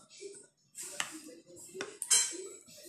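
A utensil mixes caramel tartlet filling in a bowl, giving a few sharp clinks and scrapes against the bowl, spaced irregularly and close by, with short gaps of quiet between strokes.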